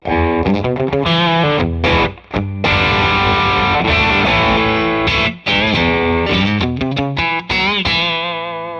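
A heavily overdriven electric guitar through a tube amp on its top channel, bright switch on, plays thick, sustained chords and quick runs, loud and close, with a few brief pauses between phrases.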